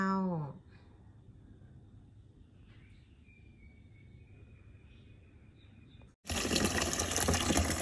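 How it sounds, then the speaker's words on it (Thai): Mushrooms (hed thob) being washed in water, rinsed several times until the water runs clear; a soft water sloshing under quiet background, then a sudden loud burst of running water near the end. "ล้างเฮทอบกันนะเจ้า ล้างซากสี่ห้าน้ำจนน้ำใสนะเจ้า"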